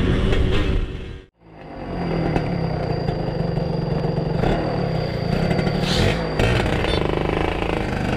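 A Suzuki Satria two-stroke motorcycle with a faulty carburetor runs loud and close, its engine rattling and buzzing unevenly. Near the start it briefly cuts out, then catches again and keeps running roughly.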